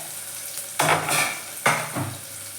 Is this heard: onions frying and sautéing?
yes